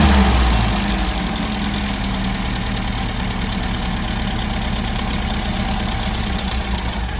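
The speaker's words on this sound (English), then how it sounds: "So the engine's running, and I'm doing some vacuum leak checking, and just listen as I spray around on the vacuum hoses here." A twin-carb Innocenti engine with vacuum leaks ticks over at a constant, slightly uneven idle close by, a steady throbbing drone lasting several seconds with no voices.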